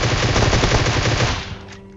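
Rapid automatic gunfire from the mobile battle royale game PUBG Mobile rattles loudly and up close as a continuous burst, then cuts off and leaves a fading tail.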